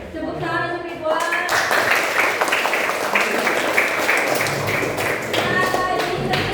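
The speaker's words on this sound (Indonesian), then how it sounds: "tepuk tangan untuk Ridwan." Classroom of students applauding for Ridwan, a sudden outbreak of close, lively hand clapping that holds steady, with young voices talking and shouting over it before and during.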